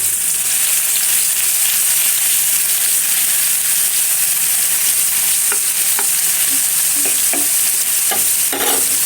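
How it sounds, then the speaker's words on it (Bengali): Small shrimp frying in oil, a loud continuous hiss and sizzle with scattered sharp pops and scraping stirs toward the end. "তেল আমি আগে দিয়ে নিয়েছিলাম, মাছগুলো দিলাম। এখন ভেজে নিব হালকা করে।"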